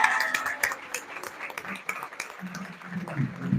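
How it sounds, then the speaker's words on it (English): A crowd claps for the Best Startup Award winners at a pitch contest. The steady, dense applause carries through with faint voices mixed in. "Please give them a big round of applause, everyone."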